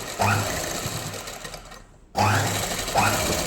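A sewing machine runs steadily as it stitches fabric, making a knot-style tack stitch in tailoring work; the close, even motor hum breaks off for a moment and then starts up again.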